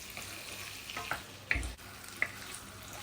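Boiled white chickpeas stirred into sizzling spice masala in a pan, soft continuous frying hiss with a few louder scraping stir strokes close up, no voices.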